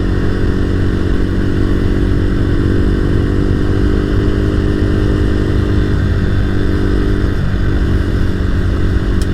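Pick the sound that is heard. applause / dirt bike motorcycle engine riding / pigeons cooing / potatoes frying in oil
dirt bike motorcycle engine riding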